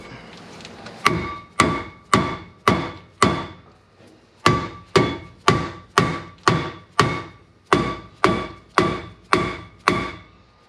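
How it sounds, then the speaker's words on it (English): Hammer blows banging a seized brake rotor off the rear hub of a 2011 Ford Ranger, about fifteen loud metallic strikes in steady runs with a short pause midway, each ringing briefly before the next. "We had to bang it with a hammer a few times and it finally released."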